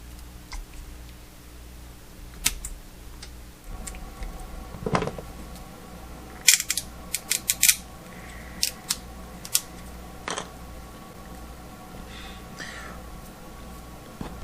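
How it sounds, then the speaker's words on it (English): Snips clipping 3D printed O-scale parts away from their support structure, heard as a series of sharp, close snaps spread irregularly across a quiet background, with a few clustered cuts near the middle. "I tend to at least get the outer parts with the snips."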